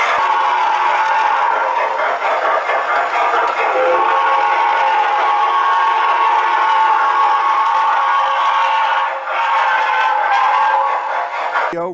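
Model train running on a home layout, a steady mechanical hum and whir with tonal whistle-like lines held throughout, moderately close and continuous, no talk.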